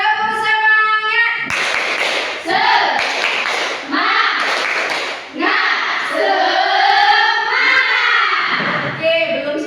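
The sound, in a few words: class doing a rhythmic spirit clap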